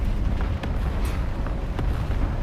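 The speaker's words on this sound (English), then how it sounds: "Artillery" Artillery fire in the War Thunder Mobile tank battle game, a dense, continuous low rumble of booms with a few sharper cracks layered on top, loud and sustained.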